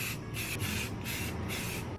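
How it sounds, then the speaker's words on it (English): Short hissing bursts from an aerosol can of filler primer, sprayed in quick repeated passes over a 3D-printed part with brief pauses between them. "It's much easier if you just spray it with a filler primer first."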